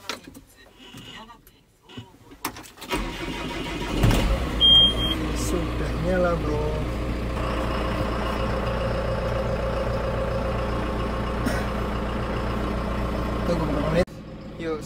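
The engine of a cattle feed chopper in Japan cranks and catches, then settles into a steady, close mechanical idle. Brief voices and handling noises come before it starts.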